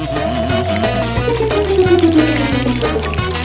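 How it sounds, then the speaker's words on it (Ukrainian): Milk pours into a large plate for cereal, a continuous liquid splash and gurgle with a gliding tone, steady and close throughout. "Заливаємо в неї молоко і засипаємо мої апетитні величезні пластівці."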